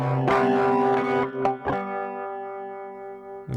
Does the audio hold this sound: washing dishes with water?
no